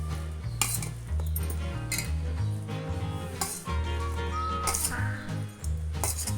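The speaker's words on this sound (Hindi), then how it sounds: "सारे मसाले हम कर लेंगे अच्छे से मिक्स।" Spices being mixed into a mixed pickle (achar), with metal spoon scraping and clinking against a bowl in repeated strokes, fairly close and steady with soft background music underneath.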